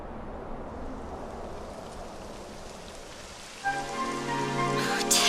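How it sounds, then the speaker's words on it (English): Rain falls in the video game Dragon Quest XI as a steady, soft hiss of drops that stays faint. A tonal game sound rises near the end. "It would have to go and start raining, wouldn't it?"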